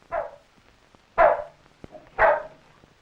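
A dog barks at the postman arriving at an Irish family home: three loud, close barks spaced about a second apart, with quiet gaps between and no talking.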